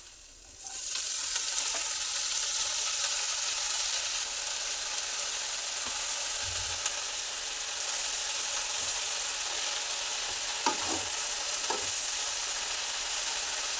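Red amaranth greens sizzle steadily in hot oil with salt and turmeric, a loud continuous frying hiss with a few faint clinks and scrapes throughout.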